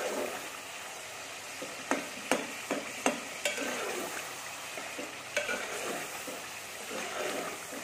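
Chana dal gosht masala with tomatoes fries in oil in a pan with a close, steady sizzle, broken by several sharp clacks and scrapes of a spoon stirring against the pan.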